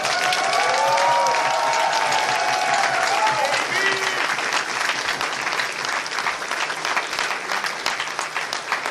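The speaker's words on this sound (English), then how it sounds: "let's go ahead and give a final round of applause for all of our staff and Team IFC" A large crowd at the Indy FurCon 2024 closing ceremony applauds the convention staff, loud continuous clapping with cheers and whoops rising over it, while a voice briefly carries above the noise at the start.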